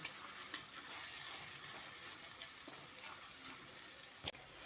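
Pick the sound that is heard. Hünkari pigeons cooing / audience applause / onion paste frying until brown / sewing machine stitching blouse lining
onion paste frying until brown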